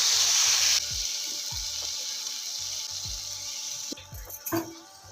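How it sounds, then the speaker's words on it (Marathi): Water poured into a hot pan of spices for upma gives a loud sizzling burst at the start, then steady bubbling and hissing, with a few soft clinks and metallic knocks near the end. "पाणी अपन याच्यात टाकते हैं।"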